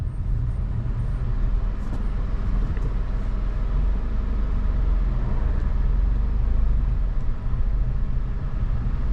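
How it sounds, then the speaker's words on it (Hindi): A 2022 Maruti Suzuki Celerio CNG car accelerates in second gear with the air conditioning on, giving a steady, loud engine and road drone throughout with no speech. "अब एक बार दूसरे गियर में भी गाड़ी को उठा के देख लेते हैं एसी के साथ में।"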